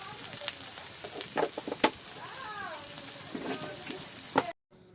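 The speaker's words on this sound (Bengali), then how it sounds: "এরপরে কাঁচা মাংস দিয়ে দেওয়া হলো, এই তো ভাজি করার জন্যে কিছুক্ষণ নাড়াচাড়া করে রেখে দেওয়া হবে।" Raw pigeon meat, seasoned with coriander powder and salt, sizzles steadily in a pan while being stirred, with occasional scrapes and clinks and some faint background voices.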